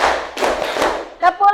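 Several quick claps ring out in a classroom, followed by two short voiced bursts from a group.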